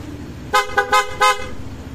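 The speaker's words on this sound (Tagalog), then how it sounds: "Tapos busina." A Bosch Europa horn on a Yamaha NMAX V3 scooter beeps four times in quick succession, close and loud, with a bright nasal tone.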